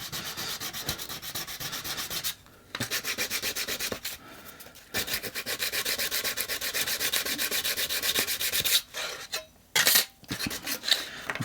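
A tapered reamer scrapes steadily through metal bearing holes in a model locomotive tender chassis, a close, continuous rasping rub broken by a few brief pauses.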